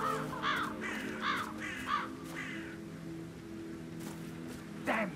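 Crows caw in Hitman 3's Dartmoor level, a run of harsh, evenly spaced calls up front followed by a couple of later caws over a quiet ambient bed, fairly near and clear.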